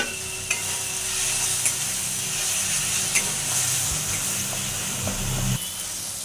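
A spice paste is stir-fried in a pan while cooking cauliflower curry with egg. A steady loud sizzle continues for about six seconds, with occasional scraping knocks from the stirring utensil and no speech.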